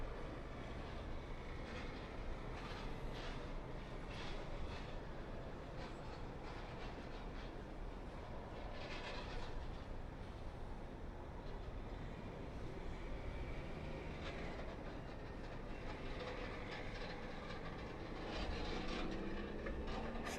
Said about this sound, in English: Sounds of airport operations.